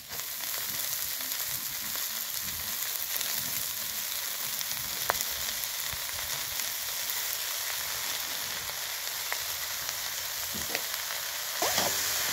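Chopped red amaranth leaves go into a pan of frying potato and eggplant, giving a steady, loud, even sizzle of hot oil with a few faint clinks of a utensil; no one speaks.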